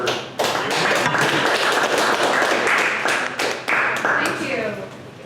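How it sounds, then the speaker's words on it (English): A small audience at a tech maker meetup applauds: a loud burst of many hands clapping close by, holding steady for several seconds before thinning out, with voices talking underneath. "So give a round of applause for you."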